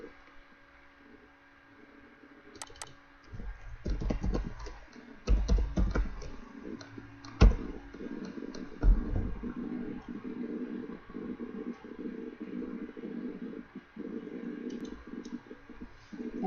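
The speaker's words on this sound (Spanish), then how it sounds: "voy a hacer doble clic y voy a buscarla en la palabra transfer function" A computer mouse is double-clicked and a keyboard is typed on while searching for a transfer function: scattered sharp clicks, then bursts of rapid, close key taps with a low background hum.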